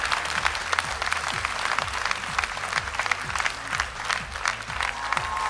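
Audience applause for an X Factor finalist at a televised gala show, steady dense clapping from a large crowd filling the room, sustained throughout with scattered louder claps and some background music underneath.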